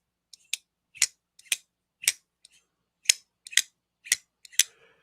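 Pocket knife flicked open and closed repeatedly, a series of about nine sharp metallic clicks and snaps in an irregular rhythm, close and crisp against near silence.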